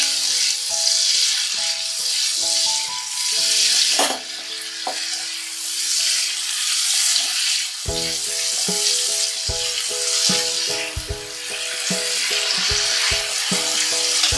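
Spices and green chili paste for fish curry sizzle steadily in a hot pan while a spoon stirs and scrapes, with soft clinks over a constant frying hiss.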